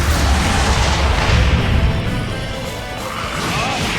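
Lowenwolf special attack from Granblue Fantasy Versus: a dense, loud run of crashing, booming impacts that fills the whole span, easing slightly midway before surging again, with no voice over it.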